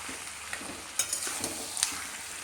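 Marinated mutton and onions are stirred in a frying pan, a quiet steady sizzle broken by a few soft scrapes and clinks of the spoon against the pan, with no talking.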